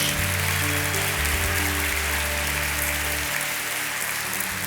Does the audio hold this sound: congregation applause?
yes